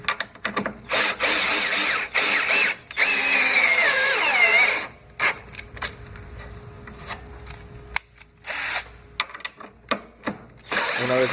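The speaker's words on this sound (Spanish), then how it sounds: "cambie la dirección de la rotación del taladro para aflojar el tornillo" A power drill with a 13 mm socket whirs in sustained bursts on a metal cabinet assembly, stopping and restarting several times with ratcheting clicks, loud and close.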